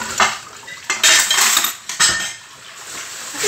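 Plates, cutlery and pans clatter and clink in several loud bursts while dishes are washed after a party, close and busy with no talk.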